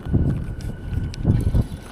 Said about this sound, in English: It's windy here, isn't it?